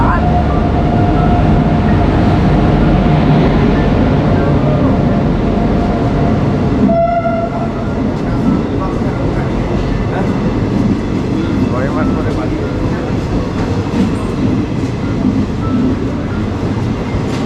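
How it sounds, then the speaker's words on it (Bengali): The Kolkata Hazarduari Express pulls into a station platform with a loud continuous rumble of wheels and carriages, a horn tone sounding briefly before a sharp change in the roar, busy platform noise and voices around. "গাড়ির সংখ্যা 1313 কলকাতা হাজারদুয়ারি এক্সপ্রেস 3 নম্বর প্ল্যাটফর্মে"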